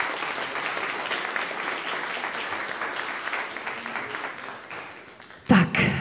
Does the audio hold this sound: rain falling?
no